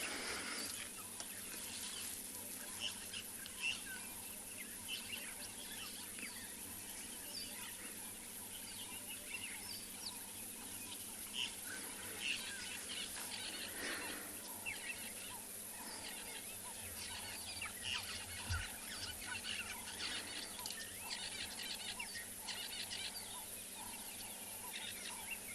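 Dawn bird chorus at Chitwa Dam on a South African sunrise safari, faint scattered calls and chirps over a steady hiss of insects and distant ambience, with no talk.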